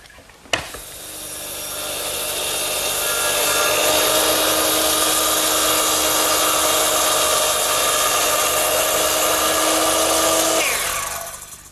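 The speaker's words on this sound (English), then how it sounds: "Now I'll do that for all the other cross cuts." A saw cuts cross cuts in wooden parts for a Shaker step stool: a sharp start, then a steady, loud, close cutting drone lasting about ten seconds before it trails off.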